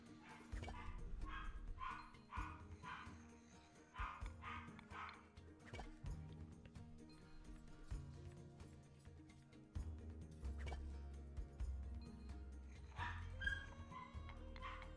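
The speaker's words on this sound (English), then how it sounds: "Dogs are going crazy." Several dogs bark and yip in quick bursts, faint and somewhat distant. The barking comes in clusters with pauses between, and a low rumble runs underneath.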